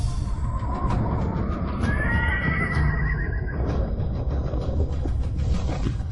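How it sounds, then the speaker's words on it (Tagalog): Horses whinny loudly in a bustling period scene, with rising neighs over a dense, continuous bed of hoof and crowd noise that runs throughout. "Nandito na ang mga kabayo."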